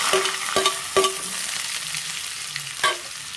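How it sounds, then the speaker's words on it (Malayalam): Garlic frying in a pan gives a steady, close sizzle, broken by a few sharp taps of a utensil against the pan, with no talk. "വെളുത്തുള്ളി നന്നായിട്ട് മൂക്കുന്നവരെ ഒരു ഗോൾഡൻ കളർ ആവുന്നവരെ ഇതുപോലെ ചൂടാക്കി എടുക്കാം"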